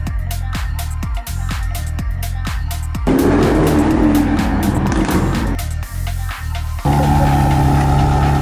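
Lamborghini and Ferrari supercars on Sloane Street, London, a loud revving engine with rapid gear-change pulses, then a sustained roar as a car accelerates and passes close by.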